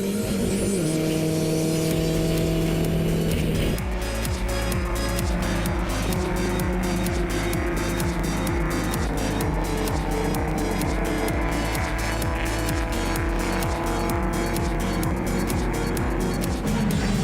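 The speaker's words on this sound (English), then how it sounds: "We go on board now with Mark Greenslade in his 1968 Ford Anglia" Heard from on board a 1968 Ford Anglia in a historic race alongside an Alfa GT Junior, the engine roars loud and close, shifting through gears and revving hard continuously with rapid rhythmic pulsing and no voices.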